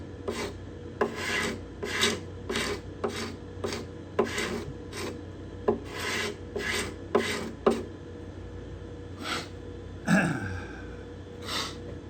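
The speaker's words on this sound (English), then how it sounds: "I don't want to aggressively scrape and haphazardly scrape." Repeated scraping strokes across the bindings and purflings of a cedar guitar top, a steady series of rasping passes near and close, each stroke brief with short pauses between.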